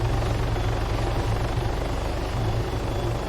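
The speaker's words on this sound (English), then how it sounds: "When my collective is down, you can hear the whine kind of get a little higher pitch." A helicopter in the video game Arma 3 hums with a steady, close engine drone and a rhythmic rotor-blade beat under a high turbine whine, continuous throughout with no talking.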